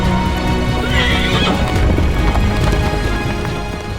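Przewalski's horses neigh and whinny over a steady clatter of hooves, loud and close, with the neighing rising clearly in the middle.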